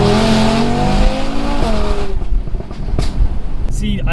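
A 520 bhp Audi RS3 under way, its engine note dropping off into overrun with crackles and pops from the exhaust, loud and close, while someone talks over it.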